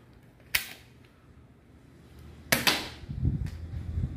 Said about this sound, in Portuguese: Vamos fazer aqui uma série de cinco disparos, seis disparos, descarregar o revólver no vidro do Celtinha.